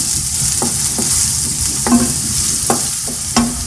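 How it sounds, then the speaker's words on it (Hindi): Finely chopped onion frying in oil, a loud close steady sizzle punctuated by several distinct scraping stirs of a spoon against the pan, with no one speaking. "4 चम्मच ऑयल डालेंगे और इसमें बारीक कटा हुआ आधा प्याज डाल देंगे। अब इसको हम 2 से 3 मिनट तक फ्राई करेंगे।"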